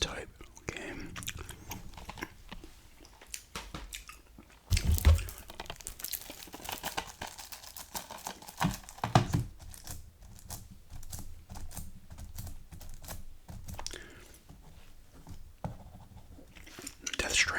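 Gum chewing ASMR, with soft, close wet chewing and smacking mixed with crinkling and tapping of PS4 video game cases, while a quiet voice talks intermittently.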